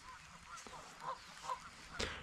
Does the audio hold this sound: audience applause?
no